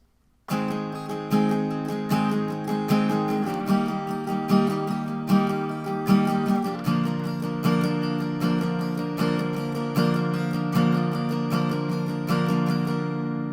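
Acoustic guitar chords strummed in a steady, even down-up rhythm, bright and close, with a chord change partway through and no voices.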